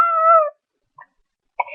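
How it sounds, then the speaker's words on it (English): A kitten gives one drawn-out, close meow, then falls quiet before a brief faint chirp and a second short mew. "What's this cat's name?"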